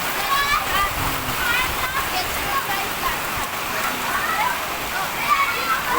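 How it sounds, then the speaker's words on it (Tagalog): Steady, dense hiss of heavy rain pouring down, with splashing drops and faint voices and chatter mixed into the wash of water. "Lakas ng ulan."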